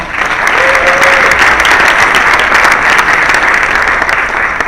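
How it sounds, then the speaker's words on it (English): Loud, sustained applause from a large audience at an interview event with a congresswoman, a thick continuous roar of clapping with faint crowd noise and a brief voice underneath. "Give them a big round of applause."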